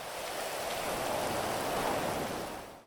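Steady rain in GTA 5, a continuous even hiss of falling water that holds at moderate level throughout with no talk or other sounds.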